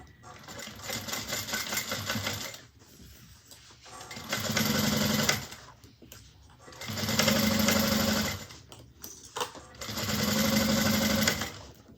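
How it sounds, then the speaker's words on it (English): A sewing machine sews the base onto the exterior panel of a Nola bag at a 3/8 inch seam, starting and stopping in four separate runs of a few seconds each, close and clear. "I'm going to sew this on at 3/8 of an inch"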